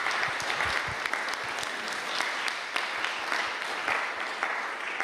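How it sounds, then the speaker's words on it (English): An audience at a developer conference gives steady, even applause after a talk on UI tricks, many hands clapping together at a moderate distance for several seconds without voices. "Round of applause."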